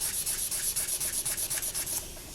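Quick, rhythmic scratchy rubbing strokes of sandpaper on polymer clay, about a dozen back-and-forth passes close up, then trailing off.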